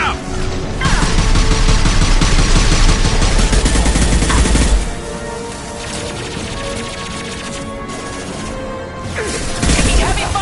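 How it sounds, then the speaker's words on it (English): Heavy gunfire in a Mass Effect 2 firefight, loud sustained bursts with crashing impacts, easing for a few seconds in the middle before intensifying again, voices faint beneath. "Taking heavy fire."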